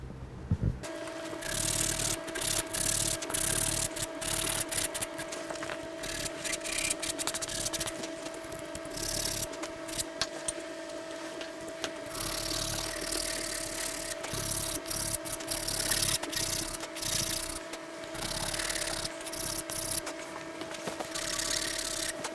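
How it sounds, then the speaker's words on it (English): Sandpaper rubs steadily over a wooden two-piece takedown selfbow, a continuous close scratchy rasp running without pause, with a faint steady tone in the background. "I'm going to go ahead and sand this down, smooth it out."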